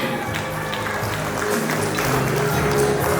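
Guests at a Georgian wedding applaud in a continuous, evenly sustained clatter of many hands, with music and voices faintly underneath.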